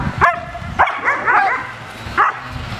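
A ten-year-old IPO3-titled protection dog gives several sharp, close barks and yips in quick, uneven bursts, with softer whiny vocal sounds between them.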